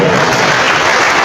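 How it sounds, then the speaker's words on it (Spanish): Dense audience applause in a hall, a brief steady wash of many hands clapping, loud and close. "Un aplauso para ellos."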